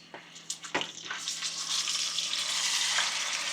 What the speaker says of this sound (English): we're going to go ahead and put it in the hot oil